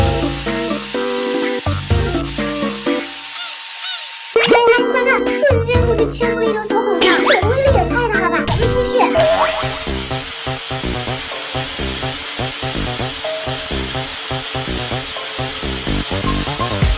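A sheet of A4 paper spun by a power tool bites into a clamped coconut, producing a loud, continuous grinding and whining drone that rises in intensity midway and keeps up steadily to the end.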